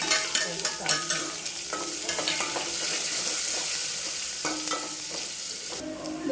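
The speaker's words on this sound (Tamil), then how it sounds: "கருவேப்பிலை, வெங்காயம், வரமிளகாய் போட்டு தாளிக்கணும்" Curry leaves, onion and dried red chillies crackle and sizzle in hot oil in a pan for a sambar tempering, a loud close frying hiss broken by repeated spoon-stirring scrapes, with no talking.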